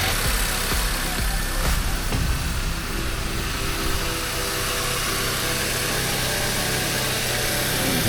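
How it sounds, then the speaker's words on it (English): A Honda R20 four-cylinder engine from a Civic or CR-V with a leaking rocker cover gasket idles under the hood, a steady, close, even mechanical hum with a light ticking texture throughout. "Let's fire it up and see what we find."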